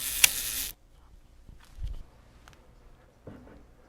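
Edinex camera being advanced and its shutter mechanism working: a sharp, loud mechanical snap and rattle at the start, then a few faint small clicks in near silence.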